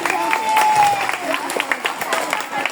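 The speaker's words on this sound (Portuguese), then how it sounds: "Uma salva de palmas para ela." An audience at a school project's Black Consciousness closing ceremony claps for a teacher being introduced, a steady patter of applause close by with a voice speaking over it.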